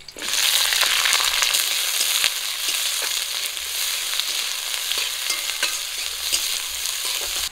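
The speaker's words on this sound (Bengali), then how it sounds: "পেঁয়াজ আর কাঁচা লঙ্কা লাল করে ভেজে নিয়েছি" Onion and green chili fry in mustard oil in a kadai with a steady, loud sizzle and occasional stirring scrapes, close up with no voices.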